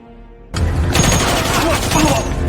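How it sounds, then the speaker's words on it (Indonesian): A sudden burst of rapid gunfire erupts after a quiet moment, loud continuous shots echoing in a dramatic film scene, as a gangster's henchmen are killed. "Mendengar adanya tembakan"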